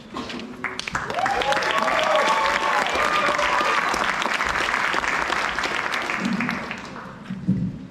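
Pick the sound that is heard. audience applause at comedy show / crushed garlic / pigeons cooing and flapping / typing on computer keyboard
audience applause at comedy show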